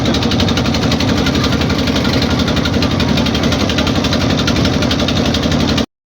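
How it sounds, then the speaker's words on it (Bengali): A motor boat's engine chugs loudly and steadily up close, its rapid even pulsing continuing without pause as the boat crosses the river from Narayanganj ghat. "এই নৌকাটা দিয়েই আমরা নদী পার হব।"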